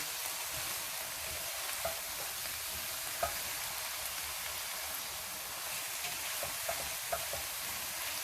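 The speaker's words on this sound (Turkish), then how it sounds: "Böyle ara ara karıştırarak kavurmaya devam ediyoruz." Mixed wild greens sauté in a pan, giving a steady soft sizzle with occasional light clicks and scrapes as they are stirred now and then, close and fairly quiet, with no talk.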